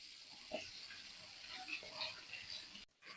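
Small sarpunti fish frying in oil in a kadai, a steady broad hiss and crackle with scattered pops, fairly close, cut by a brief dropout near the end.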